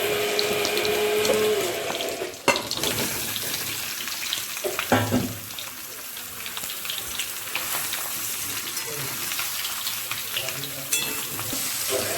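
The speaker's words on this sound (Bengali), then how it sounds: "গোটা গরম মশলা আর তেজপাতা ফোড়ন দিয়ে দিলাম" Whole garam masala and bay leaves sizzle in hot oil for a vegetarian Kashmiri aloo dum. A continuous frying hiss runs throughout, broken by a few clattering stirs of a utensil.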